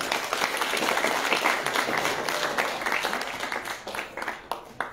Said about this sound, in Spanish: a la distancia les mandamos un fuerte aplauso